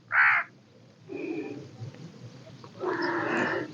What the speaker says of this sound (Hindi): हमारे कौवा महाराज भी हैं जो अपने संगीत को सुना रहे हैं